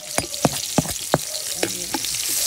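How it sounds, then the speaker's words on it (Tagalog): Garlic sautés in a pan, a bright sizzle punctuated by several sharp metallic spatula scrapes and taps in an uneven rhythm, close and loud. "Gisa po tayo ng bawang guys."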